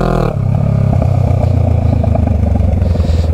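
A Honda Rebel 500 motorcycle engine revving hard and then easing off as the front wheel lifts in a wheelie, a loud, close, rough throbbing drone with clattering mechanical overtones, with no voices.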